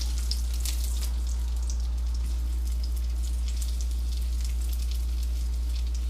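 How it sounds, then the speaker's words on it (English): A ball of dough fries in hot oil, giving a steady, close crackling sizzle with scattered sharper pops, plus a low constant hum underneath. "I want the oil to get coated all over the ball so it fries evenly"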